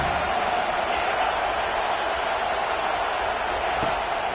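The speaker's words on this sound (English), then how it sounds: "This crowd bringing the energy and noise early." A college football stadium crowd at a Utah game gives a steady, dense roar that holds level and loud throughout, with no clear peaks or breaks.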